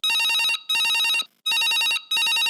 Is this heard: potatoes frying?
no